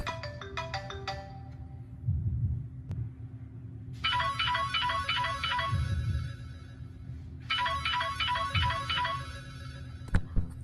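Loud electronic phone ringtones play in turn: a brief chiming melody, then two long bursts of a bright repeating tune, with a low rumble underneath.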